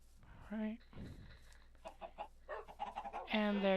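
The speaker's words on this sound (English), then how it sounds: "Now I can breed some more chickens." Minecraft chickens in a video game give short clucking calls in a few separate bursts, mixed with a voice talking at moderate level.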